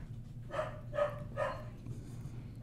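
Three sharp barks from a dog indoors, muffled as if coming from upstairs, evenly spaced about half a second apart over a low steady room hum, with no talking.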